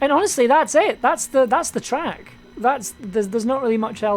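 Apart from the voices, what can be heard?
None of the usual background noises is heard.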